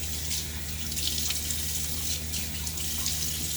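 Water runs and splashes from a tap into a sink while a face is wetted for a wet shave, a steady close hiss with brief splashy bursts over a low hum.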